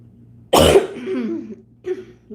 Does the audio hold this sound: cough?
yes